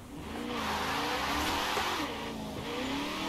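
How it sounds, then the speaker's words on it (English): A Hennessy Venom with a racing V8 roars in a racing video game, the engine revving hard and climbing steadily in pitch, loud and continuous, with a faint tire squeal. "It's like a racing V8."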